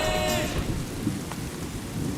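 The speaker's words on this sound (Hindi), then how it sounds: "बारिश।" Rain and thunder sound effect: a dense, steady hiss of rainfall with a low rumble of thunder rolling underneath, loud and continuous throughout.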